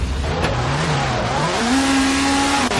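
A rally car in the WRC4 racing game is flung through a hairpin with the handbrake, its engine droning loudly and rising in pitch as it revs, with a steady roar of gravel and tyres underneath.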